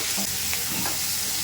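Pirandai sautéing in a pan with shallots, tamarind, tomato, chillies, lentils and salt, a soft steady sizzle with light stirring scrapes, close and alone.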